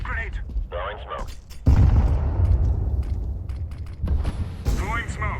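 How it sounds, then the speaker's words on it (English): A grenade blasts in a tactical shooter game, a heavy low boom that rolls on for a few seconds, framed by short bursts of shouted callouts from players before and after. "Grenade."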